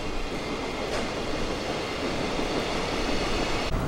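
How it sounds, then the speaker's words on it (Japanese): A freight train rumbles past at night on the Tokaido line in Japan, a loud continuous roar of wheels and rail noise with faint rhythmic clacks, steady throughout and close by. "夜の東海道は本当に物流の大動脈でして、このような貨物列車が山手線張りの感覚で続々とやってくるようです"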